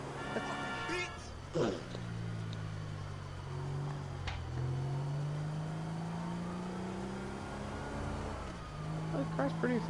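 An old beater car in Grand Theft Auto V driving fast, engine whine climbing and shifting through gears, with game sounds and a voice speaking over it.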